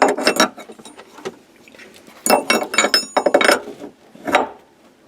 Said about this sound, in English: Take the nut, got an end wrench like this on it.